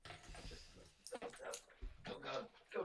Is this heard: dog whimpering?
yes